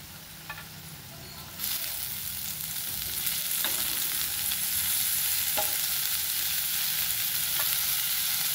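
Chopped coriander tossed into a pan of roasted sesame seeds sets off a steady frying sizzle, rising louder after a quiet start and continuing with faint stirring scrapes, no voices.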